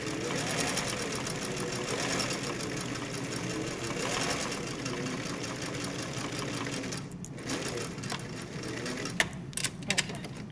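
A sewing machine stitches a side seam pocket on a garment in one long, even, steady run, then stops, leaving a few light clicks.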